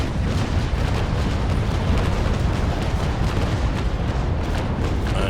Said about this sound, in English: going with locked, where all your cannons are firing straight forward